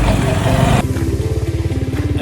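A motorcycle engine runs close by, first masked by a loud broadband rush, then settling into a steady pulsing putter as the ride continues on a sunny road.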